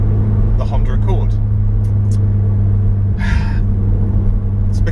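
A CL9 Honda Accord Type S drives along with a steady, loud engine drone and road rumble filling the cabin, while a person speaks and breathes over it.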